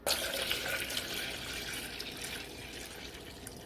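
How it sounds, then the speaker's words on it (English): Cold tap water runs into a container for strawberry sweet tea, a steady rushing, splashing stream that holds at an even, fairly close level throughout, with no talking. "I'm going to get some cold water to put in here."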